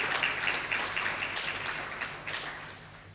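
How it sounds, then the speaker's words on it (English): An audience at a UNICEF meeting keynote in St. Lucia gives the UNICEF team a moderate round of applause, a dense patter of clapping that slowly tapers off. "let's give a round of applause to the UNICEF team here this morning for the great work"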